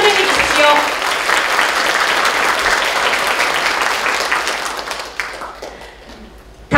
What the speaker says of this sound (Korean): 여러분 큰 박수로 환영해 주십시오.